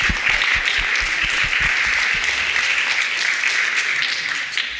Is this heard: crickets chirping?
no